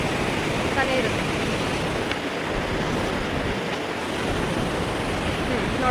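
Steady rushing water from a village river, its flow partly hidden by thick overgrown plants, fills the scene as a continuous broadband wash, loud and unbroken, with a voice talking faintly in places.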